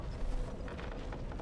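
Creaking and mechanical grinding in Dark Souls Remastered, a dense, steady texture of low rumble with scattered ratchety clicks running throughout.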